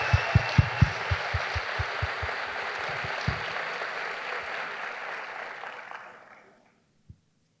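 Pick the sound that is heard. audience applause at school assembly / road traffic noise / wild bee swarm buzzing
audience applause at school assembly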